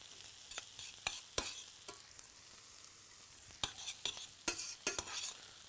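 Food sizzling and frying in a pan while being stirred, with a steady soft hiss broken by sharp scraping clicks of a utensil, close and fairly quiet, no voices.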